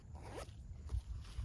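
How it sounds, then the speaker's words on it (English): The drop pouch on a hunting backpack is zipped shut in a couple of quick, soft rasping pulls, close but quiet, with light rustling of fabric. "it literally just wads back up and then zips back together."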